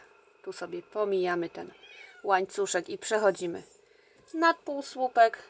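Someone speaks calmly while a kitten meows insistently in the background, several high, wavering cries in short bursts.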